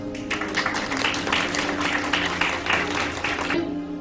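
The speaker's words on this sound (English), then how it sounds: "Please give yourselves a round of applause." Applause from an audience at an evening Adam Day 2022 celebration: a dense, steady patter of many hands lasting several seconds over a low sustained hum, then cutting off abruptly near the end.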